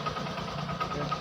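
A Hero Super Splendor BS7 fuel-injected motorcycle, after a fault with intermittent electrical current, idles just after starting with a steady, close, even engine hum and no speech over it.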